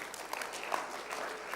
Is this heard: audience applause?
yes